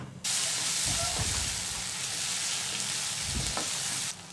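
Onion and tomato fry in a covered pan for a Tamil chickpea sundal, a steady, even sizzle that runs for several seconds with a few faint clinks and no voices.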